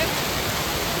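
A hidden waterfall crashes down from above, a loud, dense, unbroken roar of falling water filling the whole moment up close.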